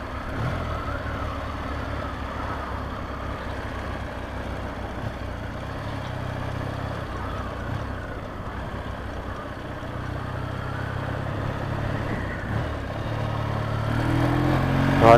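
Continuous low rumbling drone of a Triumph motorcycle's airbox intake noise while pulling away, steady and fairly loud with wind rush, swelling slightly toward the end.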